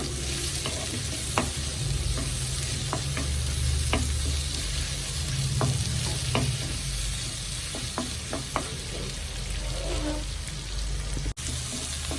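Chopped tomatoes sauté in a hot pan for a prawn perattu, giving a continuous sizzle broken by scattered sharp clicks and scrapes of a spoon stirring against the pan.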